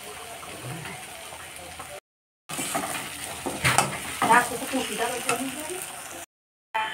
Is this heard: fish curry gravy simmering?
yes